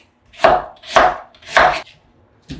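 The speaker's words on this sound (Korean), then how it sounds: "적당한 크기로 썰어 놓을게요" A knife chops through radish on a cutting board, four evenly spaced thuds, close and clear, with no voices.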